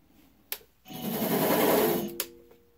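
A Harbor Freight mini lathe cutting 3/4-inch threads at 10 TPI whirs up with a sharp click, runs in a steady mechanical hum, and stops with another click.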